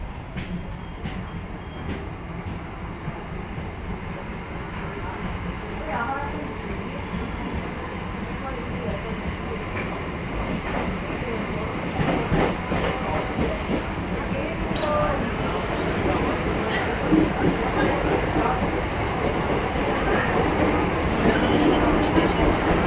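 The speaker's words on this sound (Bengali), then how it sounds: "এখন স্টেশন থেকে আমাদের ট্রেনটা ছাড়লো।" A passenger train pulls out of a station with a continuous rumble of wheels and carriages that grows steadily louder as it gathers speed, and faint clicks sound over the noise.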